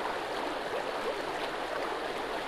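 Continuous river water flowing and rushing steadily in the survival video game Sons of the Forest, a broad even wash heard up close with no speech.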